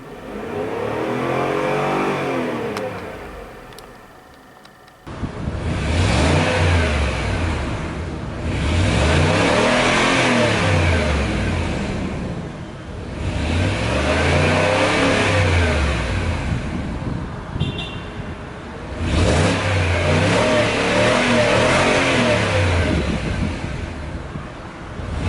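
A 2009 Range Rover Sport's 4.2-liter supercharged V8 revs repeatedly, each loud rise and fall swelling and easing in a steady rhythm of four or five blips after a quieter idle at the start, up close with no voices.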